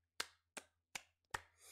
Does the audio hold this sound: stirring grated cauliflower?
no